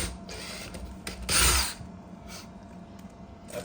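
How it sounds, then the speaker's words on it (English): A power drill bores briefly into a bedroom wall to make a hole for an anchor, a short whining buzz rising and fading over about half a second amid quiet handling noise. "So let's go ahead and drill it."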